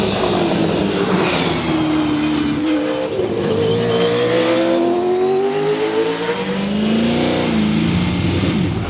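A Red Bull Racing Holden Commodore VF V8 supercar races around a track in wet Melbourne weather. The engine revs loudly in rising and falling sweeps through gear changes, with hints of tire squeal and no talking.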